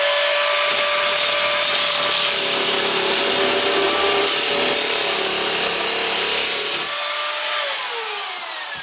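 A Lidl Parkside PMK 550 nibbler cuts through sheet material with a loud, harsh, continuous buzzing chatter that runs steadily for several seconds before winding down.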